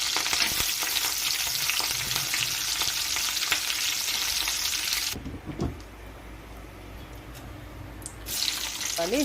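Cumin, shahi jeera and curry leaves fry in ghee with a dense, hissing sizzle for about five seconds, then it drops to a quieter crackle with a few stirring clinks before the sizzle swells again.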